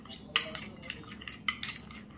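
A spoon clinks against a bowl while mixing a rice paste for a face pack, giving a few light, sharp scrapes and taps close up with quiet pauses between.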